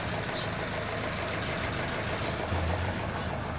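A Chevrolet Cruze engine runs at a steady idle during a home-service check, a continuous close mechanical hum with a faint knocking rhythm and no talk.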